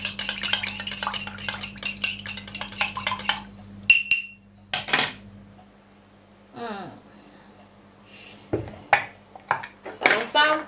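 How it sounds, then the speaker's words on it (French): A spoon stirs red onion juice in a bowl, giving scattered clinks and scraping taps with pauses, close up, while a voice speaks briefly at the start. "Je vais mélanger."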